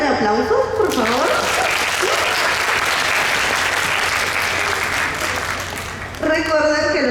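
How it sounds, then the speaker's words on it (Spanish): An audience applauds at a book event, dense sustained clapping that fades slightly near the end, with a speaker's voice heard at the start and again as it dies down. "Si pueden darle aplausos, por favor."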